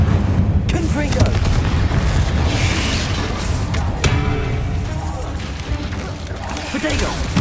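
The Confringo explosive spell detonates in a wizarding video game, heavy booming blasts rumbling one after another over a continuous dense din of battle effects, loud and close.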